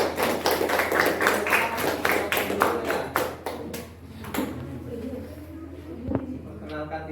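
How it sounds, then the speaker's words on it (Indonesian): A classroom group gives a short burst of applause for a presenting student group, fairly close and lively, with quick claps fading out after a few seconds into quieter room sounds. "beri aplaus untuk kelompok 1"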